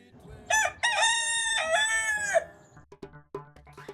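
A rooster on a small Ugandan farm gives one loud, close cock-a-doodle-doo, followed by a few soft clucks and scattered farmyard noises.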